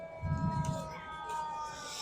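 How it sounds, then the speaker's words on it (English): A siren at a high school football game between South Lafourche and Assumption, a steady, sustained tone heard from a distance with crowd murmur and low voices beneath it. "Siren reminded me of old school 6 o'clock siren down the line."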